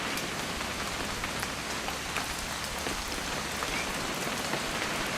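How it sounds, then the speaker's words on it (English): Rain pattering on surfaces in What Remains of Edith Finch, a continuous close hiss with many crisp individual drops ticking through it at an even, unbroken level. "It's gonna rain the whole weekend,"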